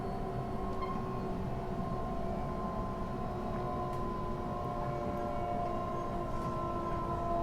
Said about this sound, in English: Trains running next to the golf course here.